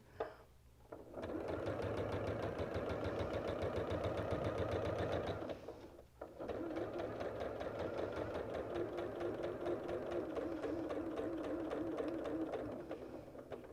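A sewing machine stitches a quilt with a rapid, steady mechanical whir and needle chatter close up. One short pause comes midway, then it resumes and runs to the end.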